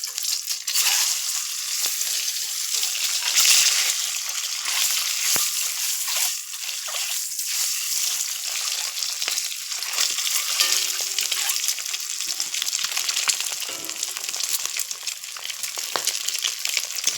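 Boiled eggs fry in oil in a pan in a home kitchen, giving a continuous close hiss and sizzle with occasional soft stirring scrapes, and no voices.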